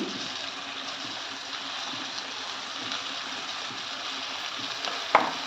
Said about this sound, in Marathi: हा सगळा टाकून घेते याच्यामध्ये ह्याच्यामध्ये चिरलेली धुतलेली मेथी